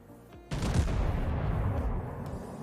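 Battleship main guns fire in World of Warships, a single heavy boom at once followed by a long rumbling roar that slowly fades, loud and close with no talking.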